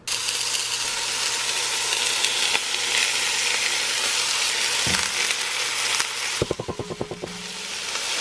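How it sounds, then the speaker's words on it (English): Ground beef, onions and jalapeno sauteing in a little olive oil, a steady loud sizzle throughout, then a burst of sharp scraping clicks from stirring near the end. "I'm just going to add just a little bit when sauteing the ground beef and onions"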